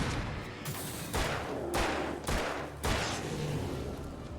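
A flashbang goes off in the video game Alan Wake, heard as a dense, loud burst of repeated sharp blasts over about four seconds.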